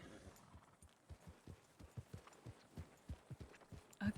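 A horse's hooves clip-clop in a Red Dead roleplay game, a quiet, regular run of soft thuds that keeps a steady walking rhythm from start to finish.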